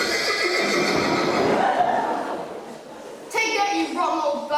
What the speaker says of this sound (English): No, he's stolen her horse.